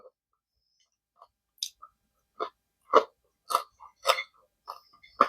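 Crunchy waffle-pressed tahdig rice is chewed close to the mic in a string of sharp, crisp crunches with short pauses of silence between the bites.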